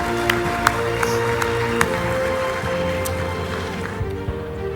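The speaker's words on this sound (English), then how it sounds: "Let's give them a round of applause" Audience at a COYLE 2024 event applauding, a dense wash of clapping with a few sharper individual claps standing out, steady across the clip and gradually thinning near the end.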